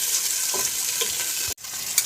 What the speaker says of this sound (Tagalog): Ulit natin gigisa-gisahin na yung ating sibuyas, bawang, saka luya.